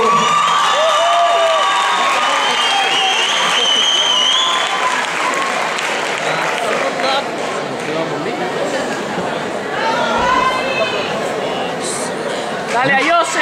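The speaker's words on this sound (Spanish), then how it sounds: "vamos a recibirle con ese fortísimo aplauso" A dance-event audience at a funk competition bursts into sustained applause with cheers and whoops, loud and continuous, while a voice talks over the crowd.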